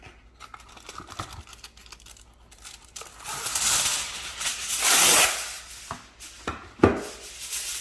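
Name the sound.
covering baking dish with aluminum foil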